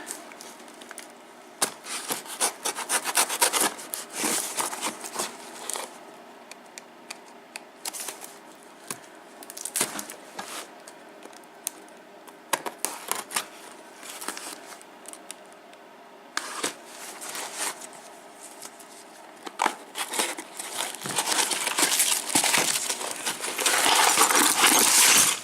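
Opening a mailed package containing locks: repeated crinkling, tearing and rustling of packaging with sharp clicks and small knocks, irregular bursts close by and growing busier toward the end, no voices.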